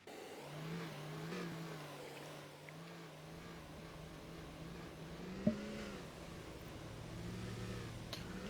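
A pickup truck engine drones steadily while driving in Farming Simulator 22, a low hum with gentle rises and falls in pitch, accompanied by a brief click midway.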